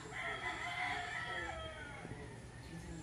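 Roosters crowing and chickens clucking in a rural Philippine province yard in the morning: a long crow rises over soft background clucks, moderately distant and fairly faint, with no talk.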